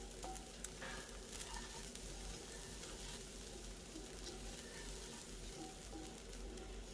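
Kichadi ingredients roast in a pan with salt added, giving a steady, faint sizzle with light stirring scrapes and no voices.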